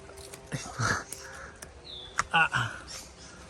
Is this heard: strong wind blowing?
no